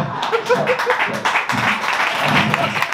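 Comedy club audience applauding a stand-up comic's joke, a dense, steady patter of many hands with crowd murmur and voices mixed in throughout.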